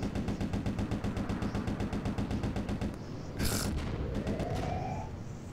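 Enemies in Project Nomads firing on the player's small tower: steady rapid machine-gun rattle for about three seconds, loud and close, followed by a sharp whooshing hit and a rising whine as the firing fades.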